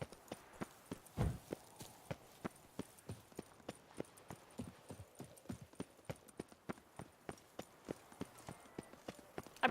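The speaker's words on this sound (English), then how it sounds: "Yeah, who's a go horsey?" A horse's hooves in The Witcher 3 video game clip-clop on hard ground in a quick, steady walking rhythm, crisp and close, with faint background sound between strikes.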